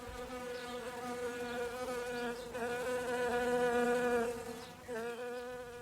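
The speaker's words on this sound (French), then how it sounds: "Le bourdonnement des insectes autour de l'olivier en fleurs était toujours aussi régulier" Dense, steady buzzing of many insects around a flowering olive tree, a close, continuous drone of flies and bees with a slight wavering pitch, no voices.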